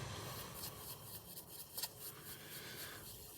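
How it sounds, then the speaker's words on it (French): Fine sandpaper rubs steadily back and forth over the varnished hood of a 1/24 Italeri BMW 320 Group 5 model car, a quiet, continuous rasping scrub with no talk. "Et on ponce."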